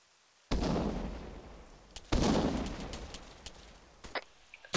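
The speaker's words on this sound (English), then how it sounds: "That nade should get him." Grenade blasts in Arma 3, two loud booming explosions a couple of seconds apart, each with a rumbling decay, followed by scattered distant gunshots.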